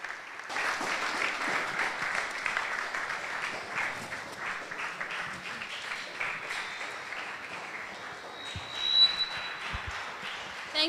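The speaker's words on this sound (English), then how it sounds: "Thank you to everyone that clapped well." An audience at a 2022 summit applauds after a speech, a dense steady wash of many hands clapping that holds for about ten seconds, loud and fairly close.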